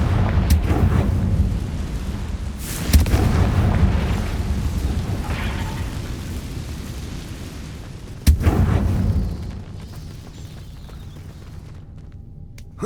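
Confringo spell explosions in Hogwarts Legacy, two heavy booming blasts several seconds apart, each followed by a rumbling decay over a low, dense game background.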